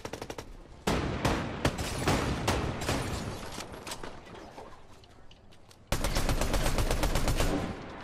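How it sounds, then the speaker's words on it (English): Video game gunfire as bursts of rapid shots fire at a vehicle's tire, loud and close with sharp rattling volleys, a pause, then another sustained burst. "I shot out his tire."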